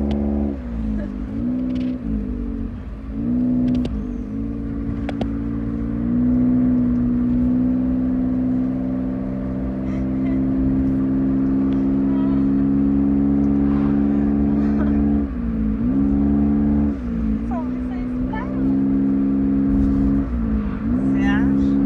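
A car engine hums steadily while driving to work in Japan, its low whirring drone changing pitch with shifts in speed, under frequent conversation inside the cabin.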